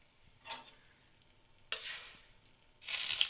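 Whole garam masala hitting hot oil in a pan for chicken korma, sharp bursts of sizzling that swell and fade, with faint stirring scrapes between them.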